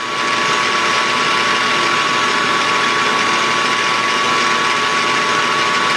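A metal-cutting machine runs a high-speed tool bit at 1,000 RPM, giving a loud, constant motor drone with a steady whine throughout and no talking.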